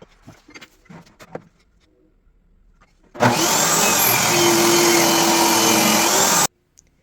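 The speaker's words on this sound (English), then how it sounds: "I'm going to trim it at the miter saw or the table saw with a crosscut sled" A saw trimming a wooden cutting board to length, cut on a miter saw or a table saw with a crosscut sled: a loud steady whine for about three seconds, starting abruptly after quiet shop handling noises and stopping sharply.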